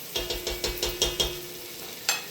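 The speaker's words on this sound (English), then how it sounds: "just give our onions just a quick toss here" Onions frying in a pan for a mushroom and roasted chestnut soup, tossed in a quick run of rhythmic scraping stirs over a steady sizzle, then one last stir after a pause.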